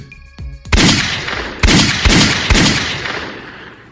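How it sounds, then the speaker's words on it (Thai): Several loud gunshots ring out close by, four sharp blasts spaced about half a second apart, each trailing into an echoing rumble. "เสียงปืนคำรามกล้องในค่ำคืนของกรุงโซ"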